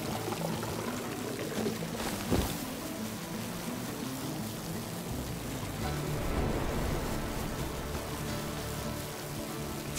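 Water pours steadily onto a plant in the video game It Takes Two, a continuous splashing trickle heard close and fairly faint, with no talking.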